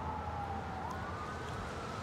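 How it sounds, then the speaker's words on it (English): An ambulance siren wails outside, a faint rising and falling tone carried over steady background noise for the whole stretch. "Can you hear ambulance or something?"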